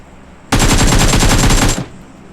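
Loud, close machine-gun burst in PUBG Mobile, a rapid unbroken stream of shots lasting over a second, then cutting off to quiet.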